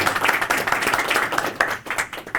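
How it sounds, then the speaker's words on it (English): Audience applause during an interview event, brisk dense clapping from a crowd, close and fairly loud with slight swells. "And round of applause for that."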